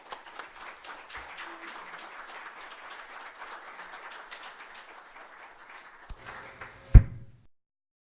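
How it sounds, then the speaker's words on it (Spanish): Audience at a conference on Puerto Rico statehood gives the speaker a round of applause, steady moderate clapping that stops abruptly, followed by a sharp thump like a door or object knocking. "un fuerte aplauso a nuestro conferencista"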